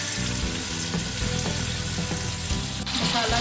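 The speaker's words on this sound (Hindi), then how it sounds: "ये तमाम मसाले डाल के अच्छे से भून लेंगे।" Spices frying in hot oil for aloo palak, a steady sizzle with stirring and faint clinks, loud and close throughout.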